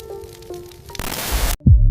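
A fizzy soda drink hisses loudly for about half a second in a broad rush of carbonation, cut off abruptly and followed by a short low thump.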